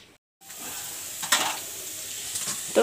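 Oil hisses and sizzles steadily in a frying pan in a home kitchen, with a short gap near the start and a few brighter crackling bursts, close and fairly loud, with no talking.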